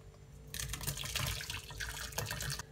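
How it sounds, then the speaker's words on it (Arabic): Water from homemade cheese drains through a cloth set inside a colander, giving a steady, close splashing pour that continues without pause and has no talking over it. "بحط قماشي بقلب المصفاية وبصفي الجبنة بقلبها"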